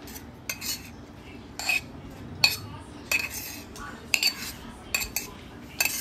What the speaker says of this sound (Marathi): हे सर्व मिश्रण मिक्स करून घेऊया चमच्यानी।